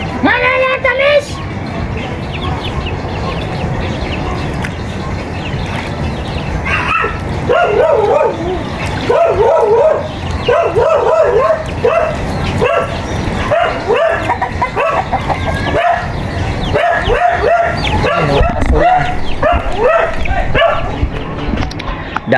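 A dog barks repeatedly in short bursts at a rural hut, mixed with chickens clucking and a rooster nearby, while people talk over the animals throughout.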